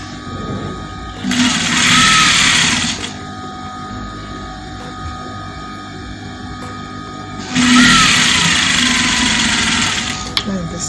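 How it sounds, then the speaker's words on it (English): Sewing machine stitching fabric for a boy's African-style top, running in two bursts of rapid whirring of about two seconds each, separated by a quiet pause with faint background noise. "I just need to stitch on with the machine."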